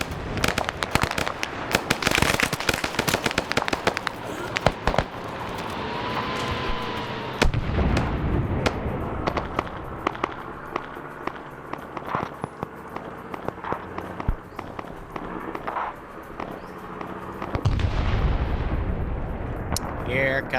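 Dense volleys of gunfire and repeated explosions from a military convoy ambush in a Vietnam-era war video game, continuous loud crackling with heavy booms throughout, occasional faint voices underneath.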